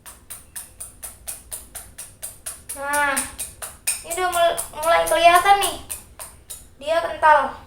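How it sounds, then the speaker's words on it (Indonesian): A thickening mixture is stirred in a pot, making regular, evenly paced scraping taps that continue throughout while someone talks over them. "Kita terus mengaduk"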